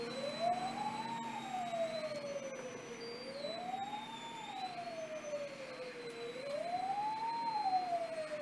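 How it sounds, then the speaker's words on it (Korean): A fire engine siren wails steadily in slow rising and falling sweeps during a disaster response drill in Muju, South Korea, heard from a moderate distance over a low background rumble. "확산되는 화재를 진압하기 위해 소방차가 진입하고 있습니다."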